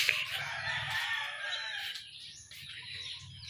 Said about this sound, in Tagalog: Ay yung mga manok ni Tatay Marcelo lahat